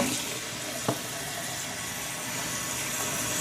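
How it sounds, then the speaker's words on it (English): Tap water pours steadily into a sink to soak a wool sweater, a constant broadband rush with one small knock partway through. "I'm going to have to add some more water in."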